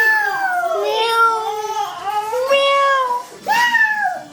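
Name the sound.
child imitating a cat's meow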